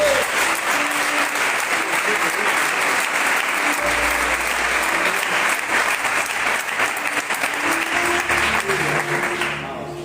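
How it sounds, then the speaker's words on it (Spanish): Sustained audience applause fills a church service, dense steady clapping continuing for the full length and easing slightly at the very end, with faint hum underneath. "¿Cuántos pueden darle un aplauso a su palabra?"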